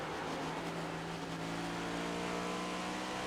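Onboard engine sound of the 3 race car in iRacing at New Hampshire Motor Speedway, a steady sustained drone with a slight rise in pitch, no voices.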